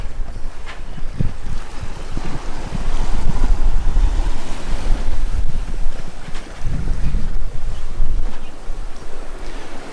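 Steady wind rushes across the microphone over the low wash and slosh of a gentle sea swell against a moving sailing catamaran's hull, continuous and fairly loud.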